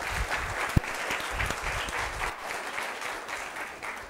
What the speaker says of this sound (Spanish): ¿Qué les parece si le recibimos con un fuerte aplauso también?